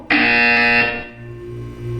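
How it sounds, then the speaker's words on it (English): A single loud electronic buzzer in the video game Portal 2 sounds close and harsh for under a second, then cuts off into a low lingering hum. "You will hear a buzzer. When you hear the buzzer, look down at the floor."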